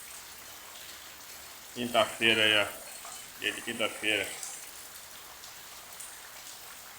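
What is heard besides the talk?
rain falling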